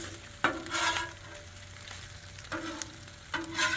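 Bacon fries on a Blackstone griddle, a soft continuous sizzle close by, punctuated by a few scraping strokes of a spatula across the flat top, with no talking.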